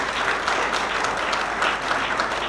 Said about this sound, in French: Nous demandons à la salle de l'applaudir chaleureusement.